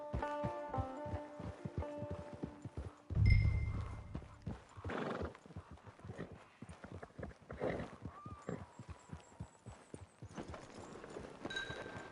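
A horse in Red Dead Online clip-clops along at a walk, hoofbeats steady and distinct, with a whinny and snort mixed in over quiet ambient game sounds.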